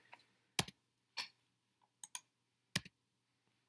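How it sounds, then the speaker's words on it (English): Five or six quick, light clicking keystrokes on a computer keyboard, spaced irregularly over a faint background hum, close and soft, typing a short word into a search box with no voice. "So just type in"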